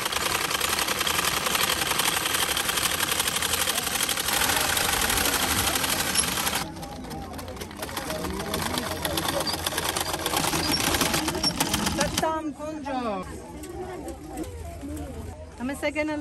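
A tailor's sewing machine in Lalibela, Ethiopia, runs in a loud, steady whir as two fabric pieces for a scarf are stitched together, stopping partway through, with people talking nearby and children's voices toward the end.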